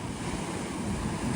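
Ocean waves wash onto a rocky Baja California shore with mussel beds and tide pools, a continuous close surging rush mixed with wind buffeting the microphone.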